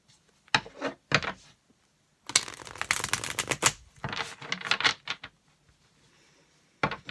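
Bursts of tarot cards being shuffled, crisp rapid riffling and snapping in several separate runs with short pauses between, close and fairly loud.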